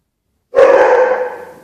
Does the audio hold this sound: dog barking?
yes